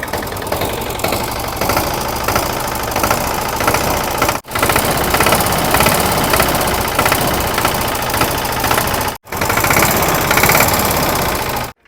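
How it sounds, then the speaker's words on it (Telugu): A BS1 motorcycle engine idles steadily and loudly up close, its rapid even thumping continuous apart from two abrupt momentary cutoffs. "ఈ యొక్క బిఎస్ వన్ ఇంజన్ బీటింగ్ ఎలా ఉంటుంది అనేది వినండి"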